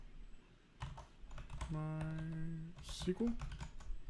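Keys clack lightly on a computer keyboard in scattered bursts, close and faint, while someone says a short word in a sustained voice midway.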